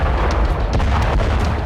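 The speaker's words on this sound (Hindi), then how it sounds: "पहले रूसी आर्टिलरी के शेल का धमाका हुआ और पहली चिंगारी के साथ फट पड़ा कई टन बारूद।" A Russian artillery shell blast setting off tons of gunpowder at a hidden forest weapons depot, heard as a loud, continuous rumbling roar with repeated booming thuds layered throughout.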